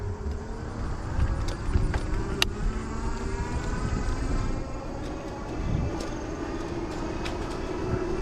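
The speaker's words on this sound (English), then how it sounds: "cars just fly by here pretty quick" Cars passing quickly along a road beside a trail, heard from an e-bike; a steady broadband road rumble with swelling passes throughout, no talking.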